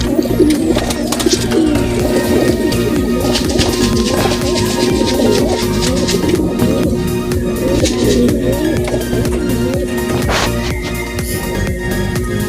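Racing pigeons cooing after arriving home at the loft from a race, many soft overlapping coos and calls over a steady background hum, with no talking.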